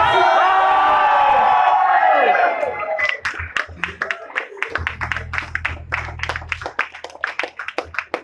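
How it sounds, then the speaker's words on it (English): A crowd cheers and whoops loudly, then breaks into scattered clapping and applause with shouts mixed in. "Can we have some more huge round of applause for our diplomat"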